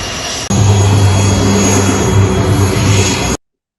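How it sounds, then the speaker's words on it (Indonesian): Wings Air airliner taxiing to its parking stand at Husein Sastranegara Airport in Bandung during an inaugural flight event, a loud, steady engine roar with a low propeller drone that starts abruptly and holds close throughout. "Kita akan menyaksikan pesawat Wings akan parking di nomor stasiun nomor 8"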